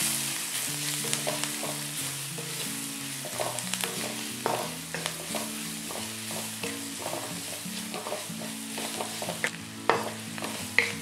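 Chopped onions tossed with coriander powder, garam masala, pepper powder and salt for cauliflower rice sizzle steadily in a pan, with repeated spoon scrapes and clinks and a low steady hum beneath.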